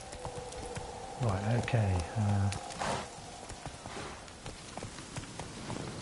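Hooves clip-clop in quick, even steps as a horse moves through Crookback Bog in The Witcher 3, under a speaking voice and a brief burst of game sound in the middle.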